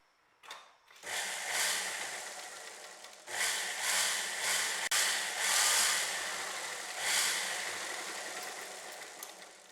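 Sewing machine running lengthwise along a round bolster cover for a diwan set, a steady whirring drone in several long bursts with brief pauses, close and fairly loud.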